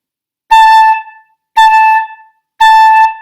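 Three short, bright flute headjoint tones on one pitch, each tongued with a crisp, clean attack, separated by brief silences.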